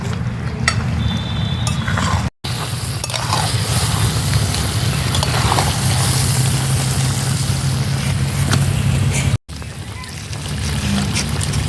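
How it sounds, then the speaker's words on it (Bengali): Mutton and potatoes sautéing in a pan for a thin mutton curry, a steady sizzling stir-fry hiss with scraping and stirring noises, close and continuous, briefly cut out twice. "এবারে আমি আলুগুলোর সঙ্গে মটনটাকে আরও 5 মিনিট কষিয়ে নেব"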